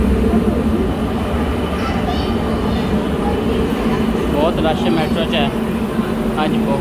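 A crowded Barcelona metro train rumbles and rattles steadily along the track, loud and continuous, with a few faint squeals and passengers chattering in the background.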